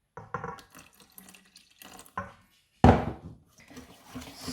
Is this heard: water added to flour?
yes